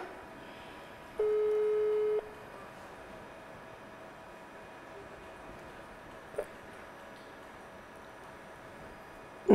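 A single steady telephone tone sounds for about a second while a call is being dialed, followed by faint line hiss and a brief click.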